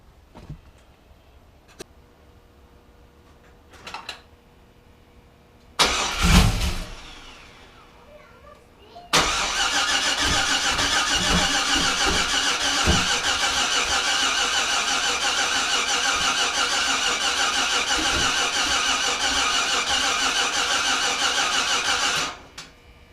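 Procharged Chevrolet Trailblazer V8 cranking over on its starter with a few short, uneven bursts, then a long steady whirring crank that runs loud and close for about fourteen seconds before cutting off, with no voices.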